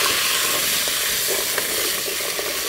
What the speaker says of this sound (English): We're going to saute all these vegetables together